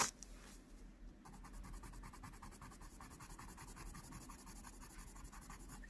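A colored pencil shades an elephant drawing on paper at medium to light pressure, giving a soft, continuous scratchy rasp with quick back-and-forth strokes, faint and close, with no talking.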